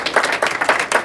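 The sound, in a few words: round of applause at black belt graduation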